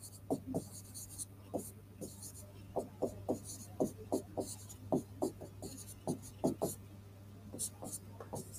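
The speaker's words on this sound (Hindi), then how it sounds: "ये चौथा नंबर ऊपर लिखता हूं यहां" Someone writes on a classroom board in a quick run of short scratchy strokes, bursts and pauses of uneven rhythm, close and fairly clear over a low steady hum.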